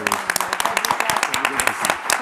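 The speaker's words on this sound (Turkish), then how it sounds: "Ben önce Toka ailesinden bir alkış istiyorum" Studio audience applause on a Turkish TV show finale, steady dense clapping throughout, close and loud.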